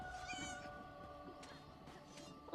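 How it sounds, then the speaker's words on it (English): A cat meows in the Elder Scrolls Online video game, a couple of close, drawn-out mewing calls rising over steady game background sound. "Cat noises."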